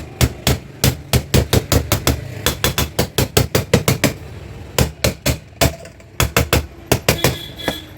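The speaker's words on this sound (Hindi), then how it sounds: "इस तरह से हमने हथौड़ी से चोट मार दिया" A hammer strikes a metal part of a Hawkins pressure cooker during repair, a fast series of sharp, loud, close metallic blows in irregular runs with short pauses.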